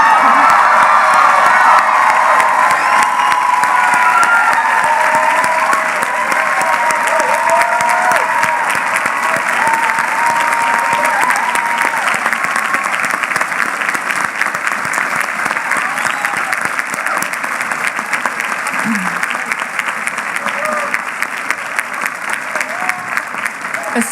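A large commencement crowd applauds a graduating candidate, loud sustained clapping with scattered cheers and whoops that holds steady, then slowly thins over about twenty seconds.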